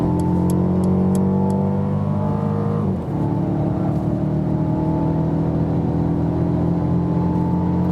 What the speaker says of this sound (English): Let me drop back to about 100 kilometers and then floor it out again so you can see once more something from the engine.